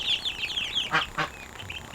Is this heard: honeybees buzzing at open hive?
no